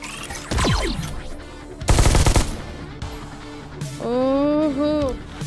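Gunfire in the VR robot-shooter Robo Recall, with a short, loud burst of rapid shots near the middle, set among whooshing game effects and robotic voice sounds.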